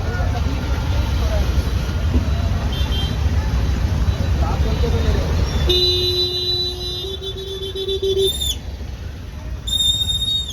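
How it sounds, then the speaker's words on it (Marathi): Heavy road traffic on the way to Shri Malang Gad, a continuous low rumble of engines with several long vehicle horns honking near the end, close and fairly loud. "ट्रॅफिक बघा, नुसतं ट्रॅफिकच होतं."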